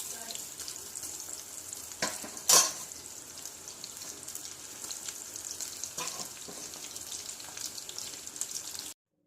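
Onion and gram flour pakoda batter fries in hot oil with a dense, even bubbling crackle, one sharper clatter early on, steady throughout and close by.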